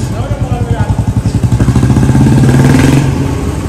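A motorcycle rolling into a parking area, its engine giving a close, rapid low putter that pulses evenly and then smooths out, with someone talking over it.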